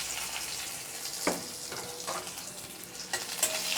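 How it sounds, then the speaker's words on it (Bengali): Garlic and radhuni spice sizzle in hot oil in a pan, a steady close fry with a few sharper crackles and stirring scrapes. "আর রসুন ফোড়ন দিয়ে দিলাম।"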